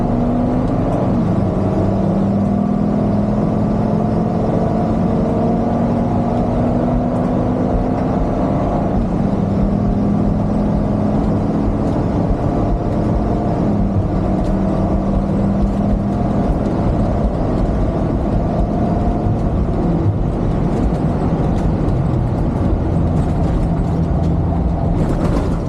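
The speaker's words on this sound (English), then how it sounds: "I got the main generator running, I got both AC units running, I got the floor fan down here going" A main generator, two AC units and a floor fan run together in a steady, loud, unbroken drone with a low engine-like rumble and faint tonal hum, continuous throughout and without talk.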